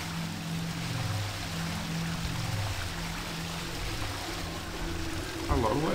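A waterfall in a Thief fan mission, Alcazar, pours and rushes in a steady, full, unbroken wash of water that stays constant throughout, with a slight shift in texture near the end.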